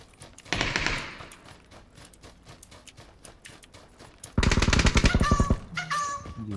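Rapid bursts of automatic gunfire in the battle royale game PUBG, one short burst early on and a louder, denser volley later, with quieter game ambience between.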